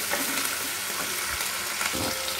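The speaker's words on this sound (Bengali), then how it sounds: "আদাটা ভাজা ভাজা হয়ে গেল" Grated ginger, splashed with a little water, sizzles and fries steadily in a pan with a continuous bright hiss, broken by a couple of soft stirring knocks.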